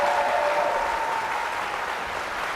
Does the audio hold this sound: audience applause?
yes